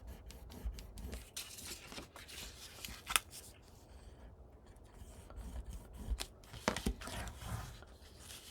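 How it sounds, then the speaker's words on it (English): Paper for a scrapbook mini album is burnished along its fold lines and folded, giving repeated dry rasping rubs and soft scraping strokes, close and quiet, with a few sharper crinkles between them. "So I will burnish on our fold lines, fold and burnish."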